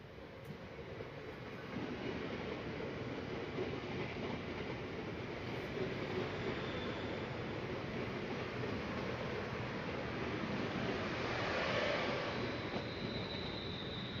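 A London Northwestern Railway passenger train running from London Euston to Birmingham New Street passes through Lea Hall station, a steady loud rumble of wheels and traction building after a quiet start and holding throughout, swelling slightly near the end.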